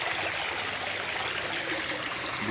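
Water pours steadily from three filter outlets into a tarp fish pond, a continuous close hiss and trickle with no talking.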